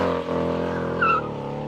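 A Ford Mustang, either the 2.3 or the V8 GT, is driven hard around a race track, its engine droning steadily close by with a brief tire squeal near the end.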